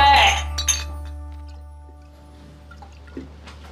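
Drinking glasses clink together in a celebratory toast among friends marking the end of their college entrance exams, a few bright chimes near the start with a faint later clink, while voices cheer under a steady low hum.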